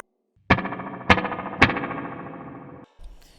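Three sharp plucked hits ring out through a spring reverb effect, each leaving a long, metallic, splashy decay that overlaps the next before cutting off.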